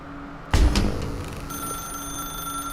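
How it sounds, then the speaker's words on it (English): A telephone in The Stanley Parable video game bursts into a sharp, sudden ring that then sustains as a fading bell tone with quiet room ambience. "Now pick up the phone."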